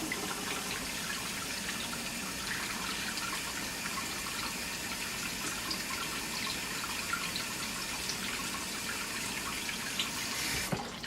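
Water runs steadily from a faucet while Berkey filter elements are primed, a constant close gushing flow that continues without a break.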